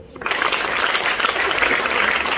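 A church congregation breaks into sustained applause, a dense, steady clapping that starts abruptly and continues evenly throughout, with no clear speech over it.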